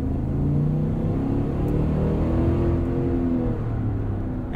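A 2021 Cadillac Escalade Sport Platinum's 6.2-litre V8 with 10-speed transmission holds a steady, deep rumble from inside the cabin, smooth and continuous with a slight rise and fall, and no talking.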